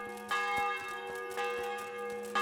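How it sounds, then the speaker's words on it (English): Church bells ringing in the medieval video game Kingdom Come Deliverance, a few resonant strikes repeating at a slow, steady interval and ringing on between hits, heard alone and at moderate distance. "Hey, the church bells. Is that the morning prayer?"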